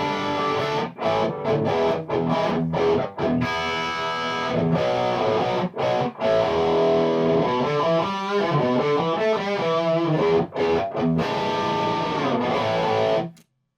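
An electric guitar plays through a Metropoulos Metro-Plex amp in Plexi mode with gain near 5, giving a lightly overdriven tone. Strummed chords and sustained single notes ring out loud and steady, then stop abruptly.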